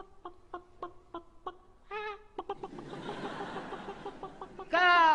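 Old rooster in a fable, a series of quiet rhythmic clucks and short calls building into a noisy flurry, ending with a loud, drawn-out crowing cry.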